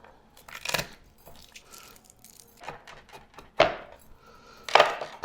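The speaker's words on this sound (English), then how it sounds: "So just mince your garlic." A knife mincing garlic cloves on a board, giving a few sharp, separate chopping knocks spaced unevenly over quiet background, with no talking.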